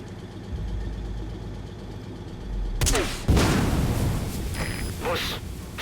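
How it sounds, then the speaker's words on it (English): A grenade launcher fires in Metal Gear Solid V: The Phantom Pain during a tank elimination side op, a sudden sharp blast after a low idling rumble, followed by a loud rolling burst and lingering noise. "Use our grenade launcher."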